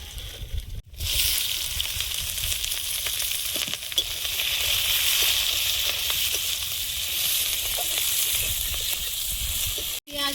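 Whole spices including cinnamon and five-spice tempering sizzle in hot oil for a curry, a loud continuous close-up hiss and crackle with brief stirring clatters and two sharp dropouts.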